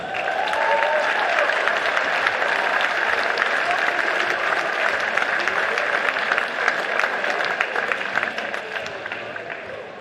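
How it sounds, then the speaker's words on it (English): A basketball crowd at a schools boys' championship final applauds the officials in a dense, sustained roar of clapping that holds steady for about ten seconds, with faint voices mixed in. "please keep the applause flowing for all of our officials right throughout the week"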